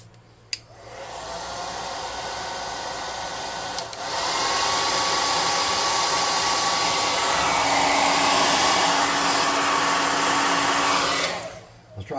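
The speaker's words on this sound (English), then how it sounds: "Give him the air gun." Hot air gun blowing with a steady whooshing hiss, starting after a click, surging louder partway through, holding a constant roar for several seconds, then cutting off, close by with no talking.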